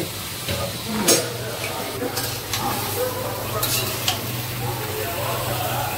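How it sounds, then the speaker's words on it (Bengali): Chicken pieces fry in a pan with a steady sizzle, broken up by scrapes and clinks of a spatula stirring against the metal at close range. "এখন মুরগির মাংস বাসাচ্ছ? না, ভাজছি।"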